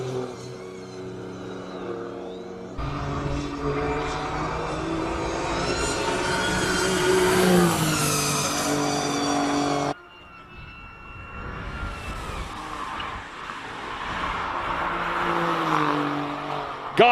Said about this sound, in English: A few more Porsches making their way up the hill.